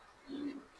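A racing pigeon in a home loft gives one soft, short coo, close by but faint, against quiet background.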